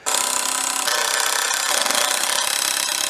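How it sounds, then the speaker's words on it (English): A power driver whines continuously as 4-inch screws bore into a wooden 4x4 fence post, a dense loud grinding with brief changes in pitch as the bit bites, close up and without talk. "I'm going to screw these in."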